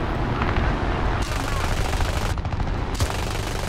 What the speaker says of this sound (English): Alright, we should be able to get guns on him now.